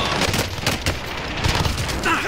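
Rapid gunfire in Call of Duty Warzone, dense overlapping bursts and booming shots crackling close by in a chaotic firefight.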